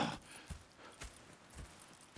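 Horse hooves clip-clop at a slow, steady walk in the Red Dead Redemption 2 game world, a few soft, fairly distant thuds spaced about half a second apart against quiet ambience.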